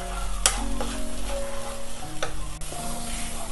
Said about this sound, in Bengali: মোটামুটি আমি 3-4 মিনিট মতো সময় ধরে মিডিয়াম আঁচে এটাকে একটু ভেজে ভেজে কষিয়ে নিচ্ছি।